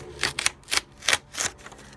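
Paper pages of a book flicked through by hand, a quick run of about five soft rustling swipes spaced roughly evenly, close and fairly quiet with no talk.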